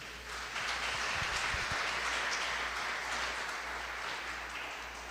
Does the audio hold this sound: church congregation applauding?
yes